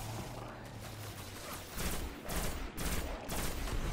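Rapid bursts of weapon fire in the video game Destiny, a run of sharp crackling shots that come in clusters and sound fairly faint and distant.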